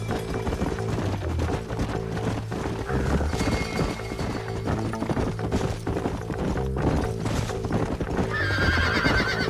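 Horses neigh and whinny over steady clip-clop hoofbeats in the Red Dead Redemption video game, with loud layered hooves and a busy mix of game effects and music throughout.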